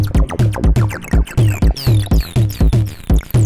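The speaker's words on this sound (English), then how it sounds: "what you're hearing right now is the TB-303" A Roland TB-303 bass synthesizer plays a steady pattern at 122 BPM, with short punchy notes pulsing evenly and resonant filter sweeps on each step, heard alone and up close.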